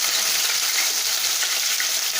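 Coriander fries in hot oil in a pan, a dense, continuous bright sizzle and crackle that holds steady and close throughout.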